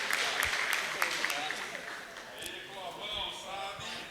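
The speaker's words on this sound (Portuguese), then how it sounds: "Palmas pro casal." Church congregation applauding a couple on stage, a burst of clapping that fades after a couple of seconds as voices and chatter take over the room.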